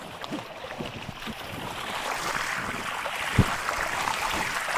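Water gushing steadily from a farm water pump motor into a field, a soft continuous rushing that swells slightly partway through, with a brief thump near the end.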